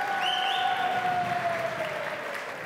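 Crowd at a music festival award ceremony applauding the winners, a steady soft wash of clapping with a sustained musical tone running underneath.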